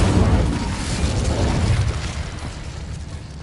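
A fiery Incendio spell blast from Hogwarts Legacy, a loud, dense burst of rumbling noise that gradually fades over a few seconds.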